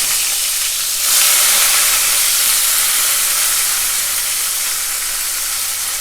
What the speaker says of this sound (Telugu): ఇలా నూనె వేడెక్కిన తర్వాత అందులోకి ఆవాలు వేసుకోవాలి.